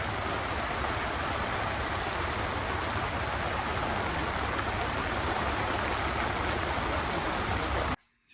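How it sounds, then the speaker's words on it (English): Heavy rain pouring down at an outdoor car show, a loud constant roaring wash of water close by that stops abruptly at the very end. "and then it started to pour."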